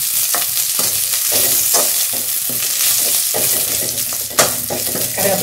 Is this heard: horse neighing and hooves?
no